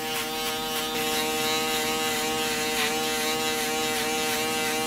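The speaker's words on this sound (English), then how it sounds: "I'm gonna angle the shaver to go against his hair growth" An electric shaver buzzes steadily against a client's hair during a mid fade at the back of the neck, a close, continuous whine held for about five seconds with no talk.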